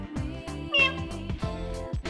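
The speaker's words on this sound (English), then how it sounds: "Meow, meow. The cat is purring loudly." A cat in the Persona 3 Portable video game meows a few times over steady game background music, the calls fairly clear and close.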